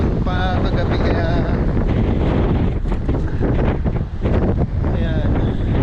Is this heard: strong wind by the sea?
yes